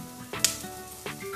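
Turmeric, pepper, coriander powder, garam masala and salt sizzle in hot oil in a pan, a soft, close frying hiss with a couple of stirring scrapes.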